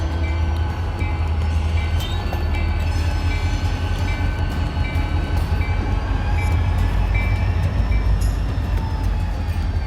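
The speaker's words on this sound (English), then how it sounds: "start up the locomotives, and then proceed out of the engine shop and into the yard" A pair of HO scale model EMD four-axle diesel locomotives, a GP59 and a GP60, run as the power for a local freight job, giving a steady, loud mechanical rumble with faint horn-like tones throughout and no talking.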